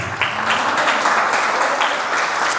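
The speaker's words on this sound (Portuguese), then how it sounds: "Você pode aplaudir Jesus?" A church congregation applauds during a sermon, a dense, continuous patter of many hands clapping at moderate loudness, with no voices standing out.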